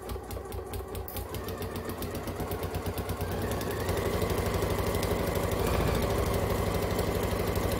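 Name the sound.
sewing machine stitching around an oven mitt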